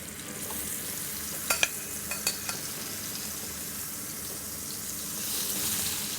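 Endives frying in a pan over a gas flame, a steady broadband sizzle with a few sharp clicks and scrapes near the middle, then swelling slightly louder toward the end.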